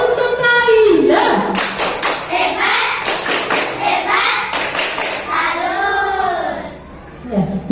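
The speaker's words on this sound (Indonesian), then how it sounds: "Tepuk tangan untuk Kaila." Schoolchildren in a classroom clap for a classmate, loud, uneven bursts of hand claps mixed with lively children's voices and chatter running through the whole stretch.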